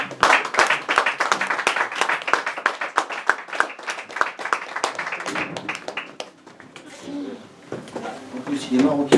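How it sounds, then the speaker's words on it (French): An audience at a hypnosis stage show claps for a volunteer, with quick, crisp hand claps for about six seconds that then give way to speech. "On peut l'applaudir."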